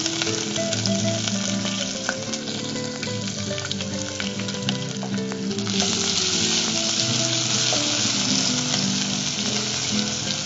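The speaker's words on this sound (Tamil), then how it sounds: "கருவேப்பிலை கூட வெங்காயம், நறுக்கி வச்சிருக்க வெங்காயம்." Chopped big onions and curry leaves fry in a pan for a fish curry, producing a loud, dense, continuous sizzle with light crackling throughout, growing a little brighter partway as the mix is stirred; no one speaks.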